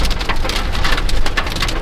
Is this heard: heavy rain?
yes